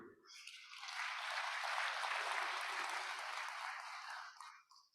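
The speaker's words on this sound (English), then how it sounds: "A big round of applause to you." Audience applause fills a conference opening ceremony, a broad wash of clapping that swells quickly, holds steady for several seconds, then tapers off, heard alone and somewhat distant.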